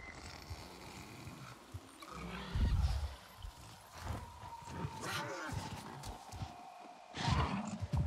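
A dark horse creature in the video game Avatar Frontiers of Pandora neighs and roars with heavy hoofbeats, loud bursts near the start and end over a rumbling game soundscape.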